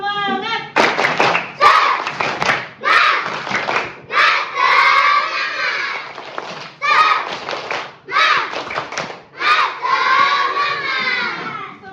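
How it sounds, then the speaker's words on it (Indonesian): Schoolchildren in a physical education class clap together in short synchronized bursts, pairs of claps repeated in a steady rhythm with shouted chanting between them. "2 kali tepuk semangat"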